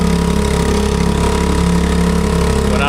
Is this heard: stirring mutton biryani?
no